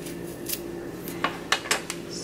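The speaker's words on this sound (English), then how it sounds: "cut aluminum foil and put the eggplant inside of the foil" Aluminum foil being cut for wrapping an eggplant in a kitchen, a few short crisp crinkling snips close by over a faint steady hum, with no talking.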